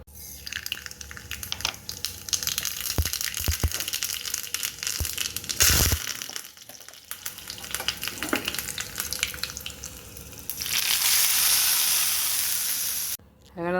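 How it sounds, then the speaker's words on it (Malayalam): Mustard seeds and curry leaves fry in hot oil for a curry tempering, a close, steady sizzle with scattered crackles and clatter that swells into a loud, sustained hiss near the end. "കടുകും കറിവേപ്പിലയാണ് നമ്മൾ വറുത്തിടുന്നത്"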